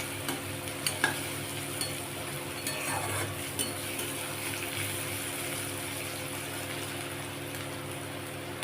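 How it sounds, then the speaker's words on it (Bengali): Onions fry steadily in a covered pan, a continuous soft sizzle with occasional stirring scrapes and small pops, close and moderately quiet, with no one talking. "পেঁয়াজটা মোটামুটি ভাজা হয়ে গেছে, আর একটু ভাজলে ভেজে তারপরে মশলাটা দেবো।"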